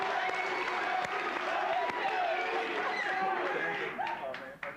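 Studio audience on the late-1980s MTV game show Remote Control breaks into sustained applause and cheering, a loud steady wash of clapping that begins to fade at the end, with voices mixed in.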